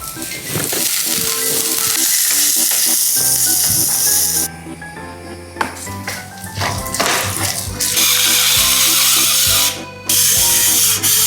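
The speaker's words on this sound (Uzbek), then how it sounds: "Balig'i qovurib olish paytiga keldik." Trout fries in hot oil in a pan with a loud, steady sizzle that briefly drops and returns, broken by clinks and scrapes of cooking utensils.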